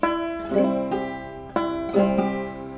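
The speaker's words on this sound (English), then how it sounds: "the basic rhythm I was talking about, called the basic frailing strum, sounds like this" A banjo plays a basic frailing strum, a steady bum-ditty pattern of struck notes and brushed strums ringing clearly up close, alone.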